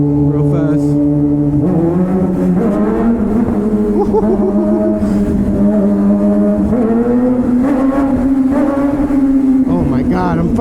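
A Suzuki GSX-R 600 motorcycle engine drones and surges steadily up close during baby wheelies, with a rider's voice exclaiming over the engine.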